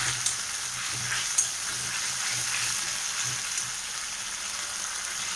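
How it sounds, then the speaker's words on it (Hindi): Boiled potatoes frying in a pan, a steady close sizzle with faint stirring scrapes and occasional light taps of a utensil, no talking. "तो इसको भी मैं थोड़ा सा फ्राई करूँगी 5 मिनट तक"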